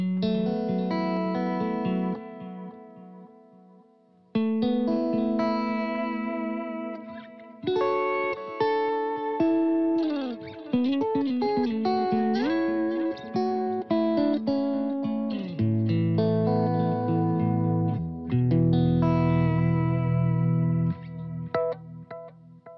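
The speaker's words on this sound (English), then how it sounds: "up first is the tape delay from Strymon." An electric guitar on a clean tone plays through a Strymon tape delay pedal, chords and bending single notes with a warm, repeating delay trailing each phrase, echoes smearing into one another.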